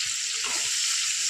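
Black mustard seeds with salt and turmeric fry in hot oil in a pan, a steady close hiss of sizzling that runs without a break through the short moment, with no talking.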